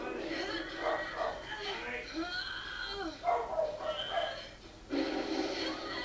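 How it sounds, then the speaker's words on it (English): Several dogs bark and yip at close range, repeated excited outbursts that run continuously over faint background noise. "My dogs have just been going mental all day."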